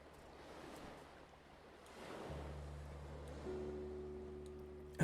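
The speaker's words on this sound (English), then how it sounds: "Ocean music." Soft ocean wave ambience with rolling surf and wind, faint and distant, joined midway by a low steady hum and a higher tone, ending in a brief click.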